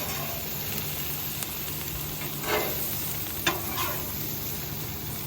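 Brussels sprouts and bacon sizzle steadily under a dome lid in a pan at a state park, a constant frying hiss with a few soft stirring scrapes and a clink.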